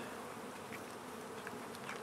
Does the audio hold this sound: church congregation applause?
no